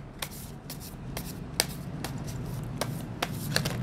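Tarot of The Kingdoms cards being shuffled by hand give a steady run of crisp, regular riffling clicks, close and fairly loud over a constant soft rustle, with no one speaking.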